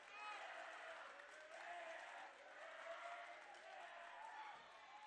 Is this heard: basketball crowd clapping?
yes